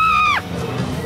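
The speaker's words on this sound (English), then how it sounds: "Do you want to see my horror scream?" A woman's high horror-movie scream at a zombie-themed premiere party, loud and sustained then sliding sharply downward and cutting off, followed by a noisy crowd murmur.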